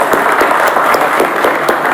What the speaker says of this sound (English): Let's have a big round of applause for Moto.